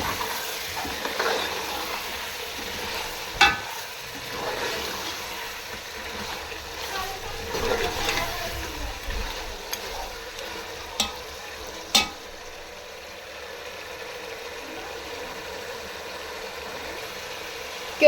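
Desi chicken with dry coriander and spices frying in ghee in a karahi, a soft continuous sizzle with occasional stirring clanks and scrapes, a voice talking over parts of it.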